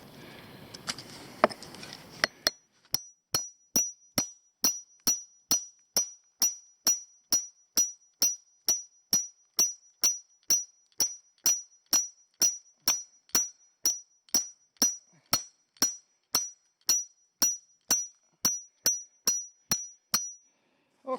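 A steel chisel is struck with a hammer against rock to free Blue John mineral, about forty sharp ringing metallic blows at a steady, even pace, close and clear after a brief rustle.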